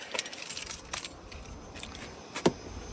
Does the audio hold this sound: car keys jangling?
yes